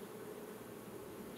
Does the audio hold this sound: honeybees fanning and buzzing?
yes